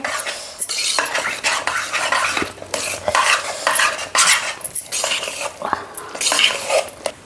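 Spoon scraping and clattering against a metal pot while moong dal payasam with semolina is stirred on low heat, a busy continuous rhythm of close, bright scrapes with brief pauses and no talking.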